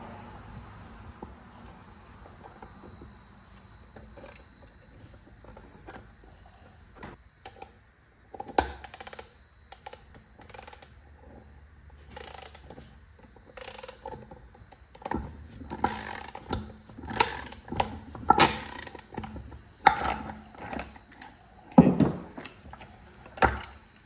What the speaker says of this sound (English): I'm gonna use my ball joint puller to pull the bearing out of the hub.